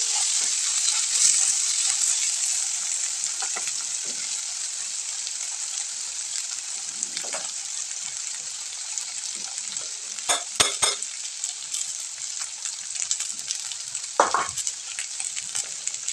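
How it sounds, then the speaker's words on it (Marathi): Cluster beans frying in a pan for a village-style Maharashtrian bhaji: a loud, continuous sizzling hiss for the whole stretch, with a few sharp clinks and scrapes of stirring toward the end. "तर अशा पद्धतीने ज्या शेंगा आहेत त्या व्यवस्थित असं तळून घ्यायचे आपल्याला।"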